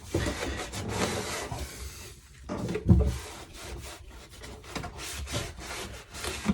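Cloth rubbing and wiping a boat holding tank surface with wax and grease remover, a steady close scuffing friction with brief pauses and one heavier swipe midway.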